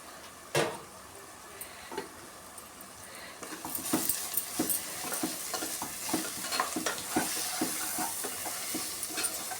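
Unsalted chili powder cooks in oil for chicken fry, a quiet sizzle with repeated sharp clicks of a small spoon stirring against the pan, starting faintly and growing busier.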